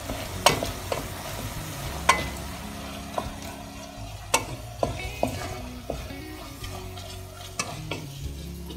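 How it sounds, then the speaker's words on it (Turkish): A spoon stirs food in a pan just after red pepper flakes go in, giving repeated scraping clinks and knocks over a steady low sizzle, close and fairly loud, with no voices. "Tekrar karıştırıyorum."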